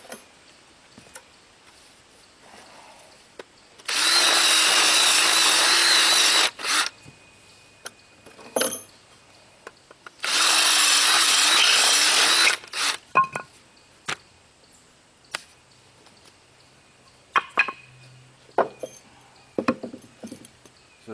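A power drill whines at high speed in two close, loud bursts of about three seconds each, enlarging a bolt hole in scrap metal for a log splitter idler arm, with scattered clinks and handling taps between and after.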